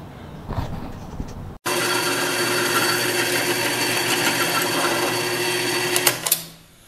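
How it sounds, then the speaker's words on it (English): A drill cross-drills a metal vise handle piece with a loud, continuous whirring grind. The sound starts abruptly after a short quiet lead-in, holds steady for about five seconds, then winds down. "Then I can cross drill this piece."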